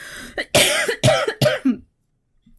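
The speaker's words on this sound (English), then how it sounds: "Again, coughing in the mic." Someone coughs close into a microphone during a podcast, a quick run of four harsh, loud coughs followed by silence and a faint trailing breath.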